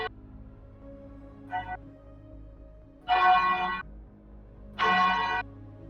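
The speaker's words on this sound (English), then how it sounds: "suddenly you hear a deafening sound of a bell" Bell sound effect in a tabletop game session: three or four ringing bell strikes, short at first then two longer, louder tolls, each standing alone over a quiet low hum.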